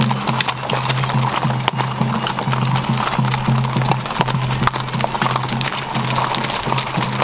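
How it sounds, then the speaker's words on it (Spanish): Horses carrying riders clip-clop in a rhythmic steady stream of hoofbeats at a quinceañera celebration in San José de las Flores, Güémez, Tamaulipas, with occasional whinnies, a loud steady tone and background chatter. "también damas de a caballo aquí acompañando a la festejada Rocío, los 15 años cumpliendo"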